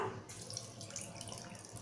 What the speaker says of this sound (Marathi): सर्वात आधी आपण मसूर डाळ धुवून घेऊया